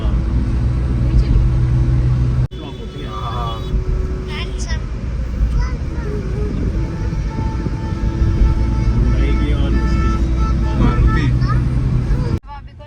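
A Hyundai Santro drives slowly through heavy city traffic, with a steady low engine and road rumble inside the cabin, passing vehicles and occasional horns, while people talk over it.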